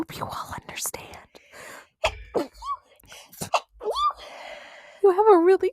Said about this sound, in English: You have a really cute sneeze.